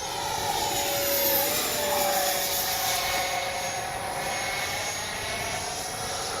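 A Freewing JAS-39 80mm electric ducted-fan RC jet making a low gear pass, with a loud, steady whooshing whine that rises and falls slightly in pitch as it passes by, no talking.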